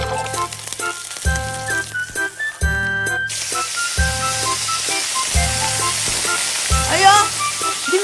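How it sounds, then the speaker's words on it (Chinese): Beef frying in a hot Japanese hotpot, a loud continuous sizzle swelling and settling between bursts, with light metallic clinks and music-like tones underneath. "点解你哋喺度煎啲肉啊？"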